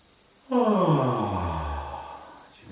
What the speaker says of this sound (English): Now we're going to make a yawn.